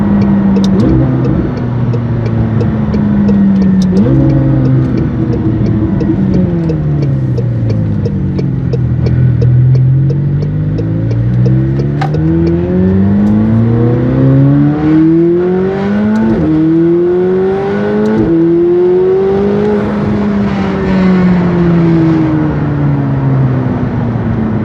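A 2019 McLaren 720S Performance with an FI exhaust accelerates hard, its engine note climbing steadily through the gears with shifts between pulls, loud and close with a deep droning exhaust tone throughout.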